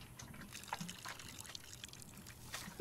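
A planted seed is watered in the video game Botany Manor, with soft, faint trickling and pouring sounds and a few light drips.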